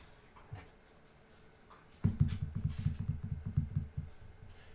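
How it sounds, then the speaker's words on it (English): Close, rapid rhythmic breathy pulses of dogs panting and licking begin abruptly after a quiet stretch and continue steadily to the end, with no talking. "These dogs are like making out behind me."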